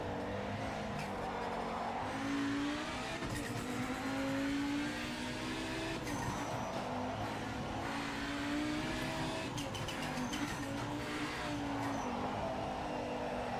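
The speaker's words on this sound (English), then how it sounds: "My Audi sounds better than his Mazda." An Audi race car in the racing game Project Motor Racing roars through gear changes, its engine note rising and falling repeatedly with tire squeal and other cars in a continuous, dense stretch of track noise.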